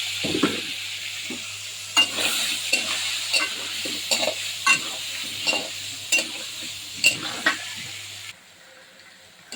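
Potatoes seasoned with salt and turmeric fry in a pan while a utensil stirs them, giving repeated scraping strokes about every half second over a steady sizzle, close and clear with no talk.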